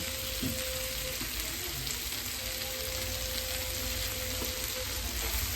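Chicken roll filling with red chilli sauce and a little tomato sauce is stirred in a hot pan, giving a steady, loud sizzle with a few soft scrapes of the spoon throughout.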